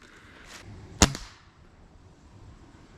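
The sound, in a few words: pellet gun shot fired from the ground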